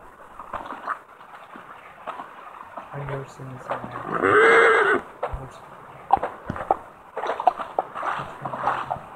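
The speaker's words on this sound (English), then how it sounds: "you guys can make whistles and call your horses" Horse in a survival crafting video game giving a loud, drawn-out whinny in the middle, with hoof clip-clops and scattered game noises around it.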